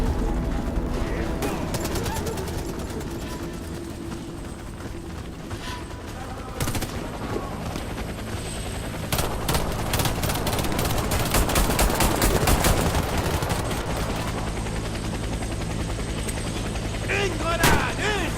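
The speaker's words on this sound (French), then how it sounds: "Allez à l'hélico." Combat in the shooter game Warface: a helicopter drones steadily beneath rapid bursts of gunfire and heavy explosions, dense and loud throughout, with occasional voices calling out.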